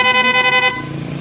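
An aftermarket loud horn fitted to a vehicle blasts one close, loud, harmonically rich honk that holds for a moment, then drops to a softer lingering tone.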